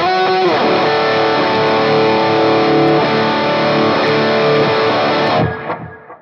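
Distorted electric guitar through a Line 6 Helix with an Ibanez Tube Screamer, playing a loud, sustained, aggressive rhythm passage close up that fades out at the end.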